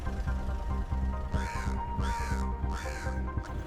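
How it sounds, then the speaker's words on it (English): Crow cawing, three loud harsh caws in a steady rhythm over a constant hum of background noise, with a fourth caw cut short at the end. "Its name is the crow"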